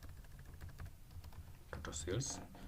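Computer keyboard typing runs through the clip at moderate level, a steady patter of keystrokes blended with faint background noise and brief voice-like sounds toward the end.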